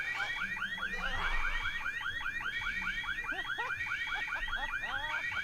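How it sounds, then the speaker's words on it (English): Burglar alarm in The Sims 4 ringing with a rapid, repeating electronic warble that sweeps up and down, steady and loud, with no other sounds. "Oh, we have a alarm."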